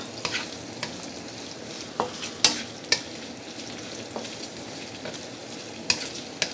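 Boiled liver pieces stirred into a frying pan, with a steady low sizzle and several sharp utensil clicks and scrapes against the pan spread across the stretch.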